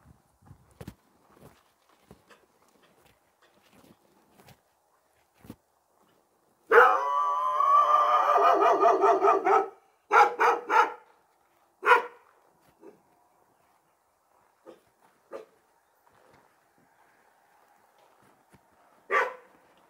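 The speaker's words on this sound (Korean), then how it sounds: "강아지가 반가워하네요." A dog at a lakeside house makes a loud burst of howling, barking vocalisation lasting about three seconds, followed by a few shorter yelps and scattered soft steps and knocks against a quiet background.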